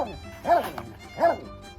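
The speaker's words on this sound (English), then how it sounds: "barking dogs." Dogs on a farm give two short barks about three quarters of a second apart, mid-distance, with faint background noise between them.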